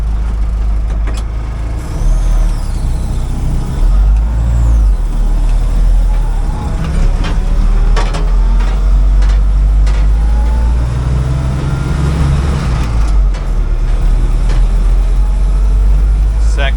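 A 1956 Willys CJ5 jeep with a new engine drives along, its engine rumbling loud and close with a heavy low drone that rises and falls through gear changes, plus rattles and knocks, while someone speaks briefly.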